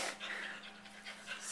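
A dog pants quickly at close range, with soft rhythmic breaths and a faint whimpery edge, quiet and without competing noise.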